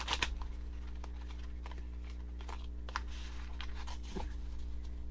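Playing cards are shuffled in brief riffling bursts, close and soft, over a quiet steady hum.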